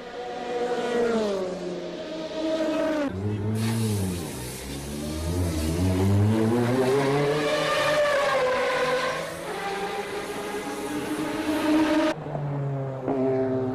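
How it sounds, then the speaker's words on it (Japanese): 1988-winning Jaguar race car speeding toward the finish at the 1990 Le Mans 24 Hours, a loud engine howl rising and falling through gear changes, passing close and staying prominent. "88年の覇者ジャガーは全く危なげない走りでゴールへと疾走する。"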